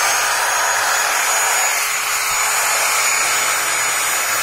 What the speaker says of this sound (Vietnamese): Đây là máy khoan bê tông.